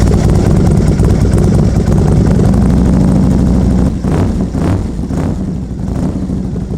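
A Confederate Crazy Horse motorcycle engine runs with a loud, deep steady rumble close by, then shifts to a rougher idle with a few revving pulses.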